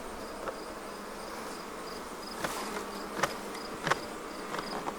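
Honey bees hum and buzz around an Apimaye Ergo hive as frames are shaken off, a steady insect drone with occasional sharp knocks and clicks, moderately near.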